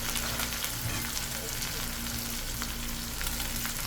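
Onions frying in mustard oil for bhindi masala, a steady close hiss and sizzle with faint stirring, no speech.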